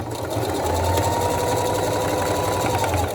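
Sewing machine stitching over a fold of fabric for a one-sided romper, a steady close whirring run of rapid needle strokes that lasts the whole stretch without pause.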